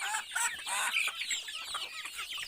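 A flock of chickens at a backyard poultry farm clucks in a busy chorus of short, sharp calls, close and moderately loud, with no voices.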